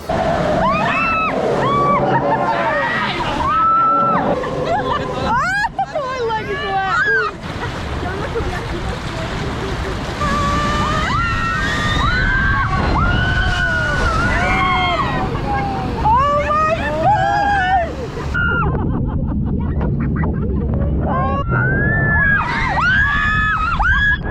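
Riders on the Grizzly River Run raft ride at Disney California Adventure splash and crash through churning water, with loud continuous rushing and surging broken by excited shrieks, whoops and shouting from people on board.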